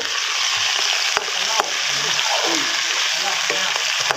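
Shrimp fried rice stir-fried in a pan, with a steady loud sizzle and scraping spatula strokes running throughout, a few sharp knocks against the pan, and no talking.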